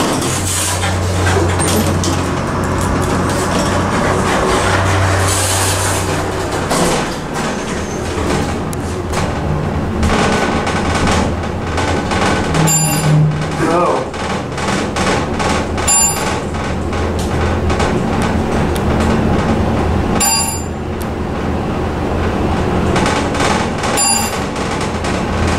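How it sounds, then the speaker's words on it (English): Aging, vandalized Dover hydraulic elevator in a Sarasota plaza rattles and clanks steadily as it runs, with sharp metallic bangs and door-like thumps breaking through the ongoing machinery noise, close and fairly loud. "Where's the rattling coming from?"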